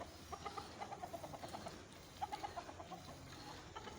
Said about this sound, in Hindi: ये मुर्गा बहुत अच्छी नस्ल का है।